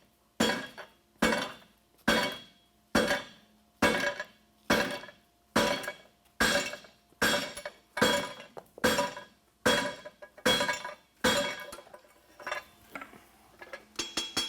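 A blacksmith hammers a center punch into a hot horseshoe on an anvil at a farrier championship. About fifteen sharp, ringing metallic blows fall in a steady rhythm. The strikes are close and loud, with no talking between them.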